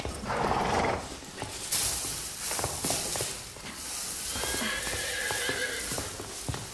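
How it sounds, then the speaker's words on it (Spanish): Horses at breakfast time whinny and neigh while hooves clip-clop on hard ground nearby, with snorts and shuffling in a stable setting, moderately loud and continuous throughout. "Sí, los caballos también desayunan."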